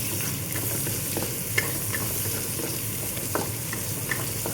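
Onions sizzle and crackle steadily as they fry in a pan for a monggo green bean dish, a continuous close hiss with occasional sharper pops and an exhaust fan droning underneath.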